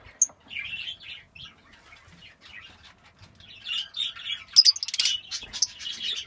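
Red-rumped parrots in a cage give soft, scattered chirps and short warbling calls, with a brief burst of wing flapping near the end, heard close in a quiet space.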